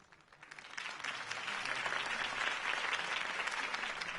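Applause rises from a crowd after a Harvey Dent campaign speech, swelling from scattered clapping into a steady, dense ovation that holds strong throughout.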